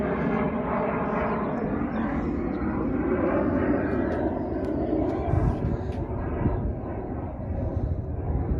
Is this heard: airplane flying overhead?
yes